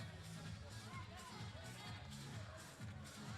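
Beach soccer crowd at a Czech Republic versus Serbia match in Belgrade reacting to a goal, a steady roar of distant cheering and babble that holds throughout.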